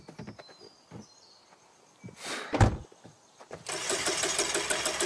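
In The Quarry, a minivan's engine cranks and fails to catch: clicks and a clunk, a strained turnover surge, then a rough grinding churn that keeps going without starting.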